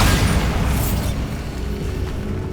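A Bombarda spell explosion in the Hogwarts Legacy video game, a loud, deep, rumbling boom that fills the moment and then decays slowly into a dull roar.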